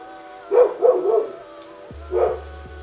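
A pet dog barks close by indoors, a quick run of three or four yips followed by one more bark after a short pause, with no talk over it.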